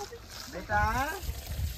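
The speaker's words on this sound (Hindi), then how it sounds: "आपका साइकिल धुल रहा है देखो" Water splashes and sloshes over a child's bicycle during an outdoor wash, a short burst of running and dripping water close by, with people talking over it.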